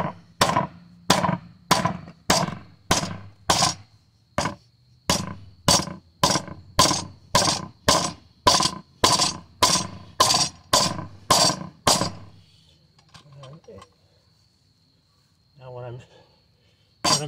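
Hammer blows strike a metal truss plate clamped in place on wood, around two dozen sharp, evenly spaced hits in steady rhythm, loud and close, stopping partway through and leaving faint handling noise.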